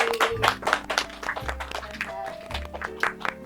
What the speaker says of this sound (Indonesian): Tepuk tangannya dulu dong teman-teman buat Kak Devi